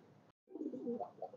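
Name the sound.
pigeons cooing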